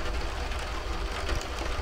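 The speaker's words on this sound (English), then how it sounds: "this is a raining sound" Steady, dense rain hisses evenly for about two seconds, a broad continuous wash of noise with no speech.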